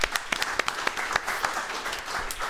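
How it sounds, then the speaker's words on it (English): Thin, scattered clapping from a small audience, individual claps audible in an uneven patter, brief and fairly quiet. "That's it? That's the applause I get?"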